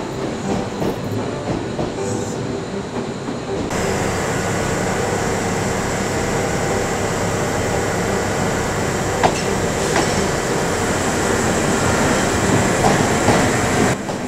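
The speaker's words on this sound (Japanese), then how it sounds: "その後大阪阿倍野橋寄りにある引き上げ線に移動。" A Kintetsu Minami-Osaka Line electric train rolls steadily from Fujiidera Station toward a siding, with a continuous rumble and rhythmic wheel clatter, a faint motor whine rising and falling.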